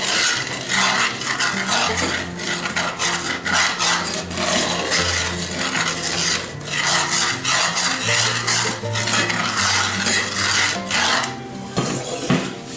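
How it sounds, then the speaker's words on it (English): Spoon stirring and scraping venison drippings in a pan during deglazing, a continuous rasping scrape with rhythmic strokes against the metal and sizzling underneath, close and loud without speech. "We're going to stir that around"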